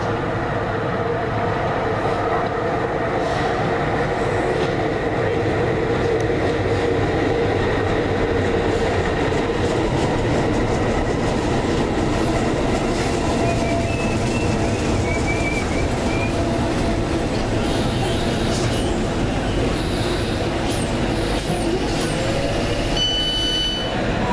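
A train rumbles past at close range for a long stretch, with continuous rolling rail noise, clattering wheels and occasional squeals.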